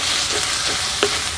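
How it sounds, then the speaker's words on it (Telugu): Spoon stirring fried onions with turmeric, chili powder and garam masala in a hot pan for onion kachori filling, a loud continuous close sizzle with a faint scrape of the spoon and no talking. "ఇప్పుడు 1 అర చెంచా పసుపు, 1 చెంచా కారం, అర చెంచా గరం మసాలా ఇవన్నీ వేసాక ఒకసారి అలా కలుపుకుందామండి"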